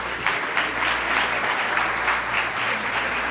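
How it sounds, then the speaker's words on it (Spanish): Audience applause of thanks for a speaker at a university physiotherapy congress, a steady, dense clapping from a crowd in a hall throughout. "damos gracias nuevamente con un aplauso"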